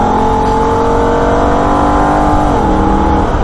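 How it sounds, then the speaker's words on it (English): A Holden car accelerates hard at the Nurburgring, its engine note climbing steadily in pitch before a quick upshift drops the tone and it pulls again; loud, close, continuous engine roar with no talk. "Upshift second to third and then again to fourth just before the kink."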